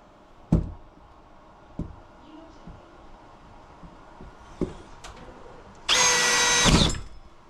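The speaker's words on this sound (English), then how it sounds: "See if this little drill can do this." A few scattered knocks and thuds, then a small power drill with a 3-inch bit whirs loudly for about a second in a short burst near the end, during mini-split HVAC drain repair.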